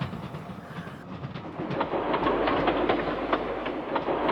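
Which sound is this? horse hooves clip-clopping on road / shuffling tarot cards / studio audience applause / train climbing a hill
train climbing a hill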